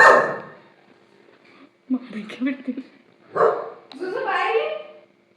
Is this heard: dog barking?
yes